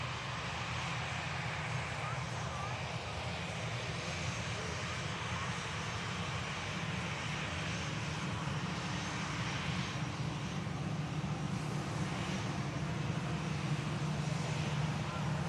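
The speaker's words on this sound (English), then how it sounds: "we'll capture this 747 departure" An Atlas Air Boeing 747 departing, heard as a steady low jet engine rumble that builds slowly in the distance, with a voice talking over it.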